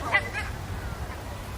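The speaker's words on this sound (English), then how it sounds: "He's trying to film a duck." A duck calls with a couple of short honking quacks near the start, fairly faint over steady outdoor background rumble, then fades into ambient noise.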